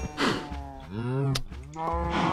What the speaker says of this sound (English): I come over here and I feed the cows.